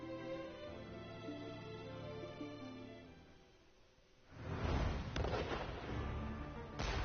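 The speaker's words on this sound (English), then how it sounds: "I don't think those cannons are gonna hold it off." A sustained tonal passage gives way to deep, rumbling cannon fire in the anime Dragon Quest: The Adventure of Dai, with a couple of sharp blasts cracking through the booming roar.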